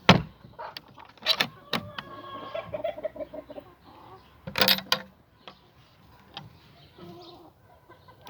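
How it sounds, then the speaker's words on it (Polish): A rooster goes after a hen as chickens cluck and squawk in short, scattered bursts, with a couple of sharp louder flurries amid a quiet farmyard background. "tutaj kogut właśnie ruszył na kurę"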